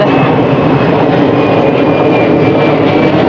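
An airplane passing overhead in Canada, a loud broad steady roar with a thin high whine running through it, no talk.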